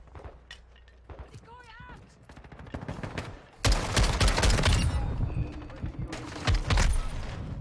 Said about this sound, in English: Oh, then he just killed me with a pistol.